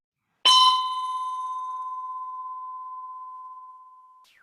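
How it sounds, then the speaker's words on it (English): A single clear bell strike rings out cleanly in a quiet room during a meditation talk, its bright attack fading into a long pure sustained tone that decays slowly for several seconds. "oh, that was a bell"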